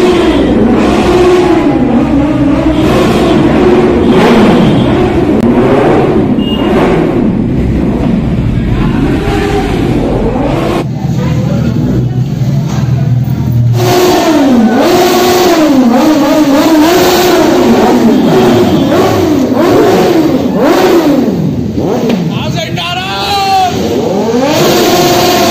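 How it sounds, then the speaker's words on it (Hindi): Motorcycle exhausts rev and roar as riders pull away from a bike meetup, several engines revving loudly and continuously with rising and falling pitch, close by and passing. "सब लोग निकल रहे हैं, जा रहे हैं अपने एग्जॉस्ट मारते थे, सूरज भाई, हारिस भाई, हर्ष आगे निकल रहे हैं"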